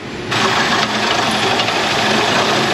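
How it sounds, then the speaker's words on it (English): An older car engine idling unevenly in an auto repair shop, a suspected lean condition or vacuum leak, giving a loud continuous buzzing drone close by, with no talk. "It seems like it idled kind of low at first and then too high. Like it's lean, or it has a vacuum leak or something like that."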